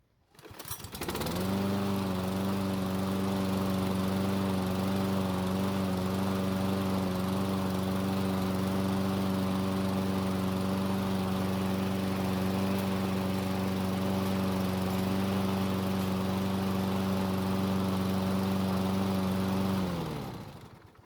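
A Toro Personal Pace walk-behind lawn mower engine starting and running steadily for about twenty seconds at an even idle, close and loud, then shutting off.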